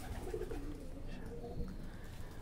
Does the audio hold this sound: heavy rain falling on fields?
no